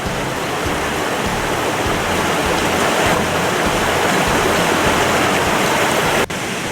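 Boggs Creek, a mountain creek in North Georgia, rushes loudly and continuously, a dense, close wash of flowing water with no voices.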